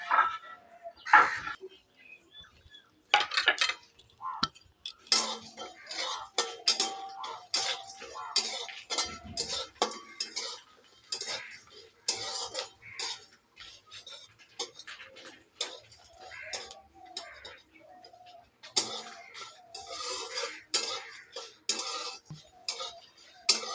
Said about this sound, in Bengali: আনারসের চাটনির মধ্যে যে মশলাগুলো দেবো এখন ভেজে নেব